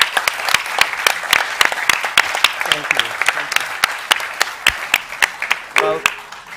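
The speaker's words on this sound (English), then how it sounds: "Why not let's give the panelists a big round of applause for sharing their insights" Conference audience applauding panelists at a design thinking event, with sharp, fairly sparse claps in an uneven rhythm. A brief voice briefly cuts in near the end.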